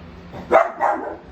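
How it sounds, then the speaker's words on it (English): A dog barks twice nearby, two quick loud barks about a quarter second apart, heard indoors in a kitchen where chilli seeds are being cut from the pod. "sorry my dog's barking"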